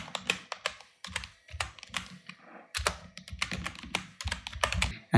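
Rapid keystrokes on a computer keyboard entering text for a text node in DaVinci Resolve 17, with bursts of clicking broken by short pauses, heard close and alone.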